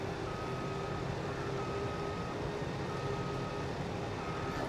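A truck in the video game Farming Simulator 22 backs down a road, its reversing alarm beeping in an even repeating rhythm over a steady engine rumble, with no talk.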